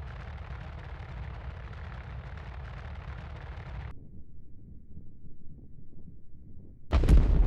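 Size 5 torpedo exploding in the space game Star Citizen: a dense, sustained rumbling roar that drops to a low crackling tail, then a sudden loud burst near the end.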